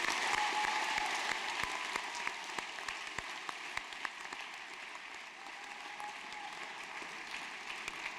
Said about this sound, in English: Let's give them all another round of applause,